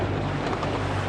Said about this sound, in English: So it's slightly breezy out.